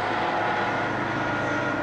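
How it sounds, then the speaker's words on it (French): A hospital helicopter flies overhead in the sky above Rouen, a steady, broad engine and rotor roar that stays loud and constant throughout with no talk. "Là, c'est l'hélicoptère du CHU,"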